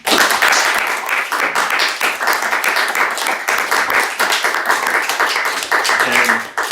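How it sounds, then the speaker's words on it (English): Sustained audience applause for the panelists at the close of a political panel discussion, dense and steady clapping from a room full of people lasting the whole stretch without pause. "Let's give the panelists one more round of applause."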